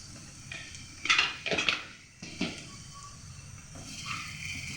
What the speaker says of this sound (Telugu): దీన్ని బాగా మిక్స్ చేసుకుంటున్నాను.